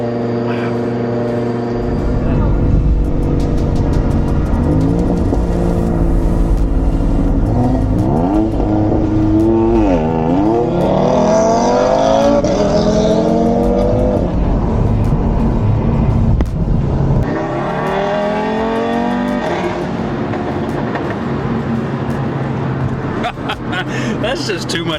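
An OSP-built Audi RS3 accelerating under turbo boost, a loud, close engine rising through rpm with a rough, deep roar, easing off and pulling hard again, with someone talking over it.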